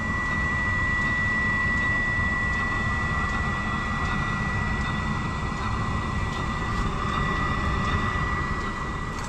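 A rebuilt Webasto diesel heater with a new atomizer running steadily and burning off oil, a loud, continuous roar and whine with a constant tonal hum and no pauses throughout.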